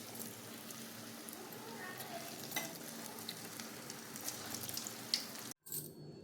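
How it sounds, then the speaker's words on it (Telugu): Moong dal fritters fry in hot oil in a pan with a continuous crackling sizzle, dotted with bright pops and spatters, up close before a sudden brief cut near the end. "అలా వేపి గోల్డెన్ కలర్లో వేపి తీసుకోవాలి"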